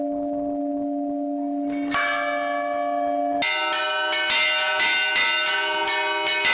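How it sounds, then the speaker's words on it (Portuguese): Church bells of a 250-year-old parish church ring out loud and close, several bells striking in turn with long ringing tones that overlap and build. "É ele também quem toca os sinos nas festividades e nos momentos fúnebres."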